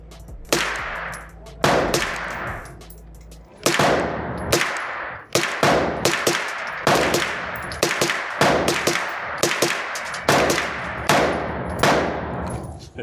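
A 9mm CMMG pistol caliber carbine fires at an outdoor range, loud sharp shots in irregular bursts with ringing metallic hits on a steel target downrange.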